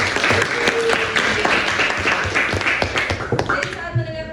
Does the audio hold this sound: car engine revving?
no